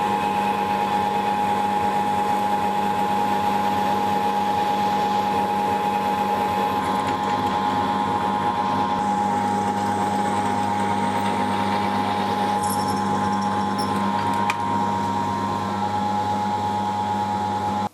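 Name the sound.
drill drilling out a pocket hole jig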